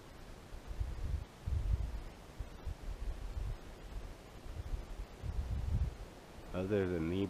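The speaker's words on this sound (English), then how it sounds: "all I can hear is wind" Wind gusts buffet a microphone outdoors at a bat camp, low rumbling bursts rising and falling throughout, with a brief voice near the end.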